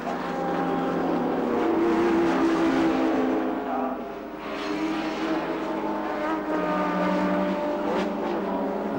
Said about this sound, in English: And the last car through is the little Persia 106 of 78, Mike Nash.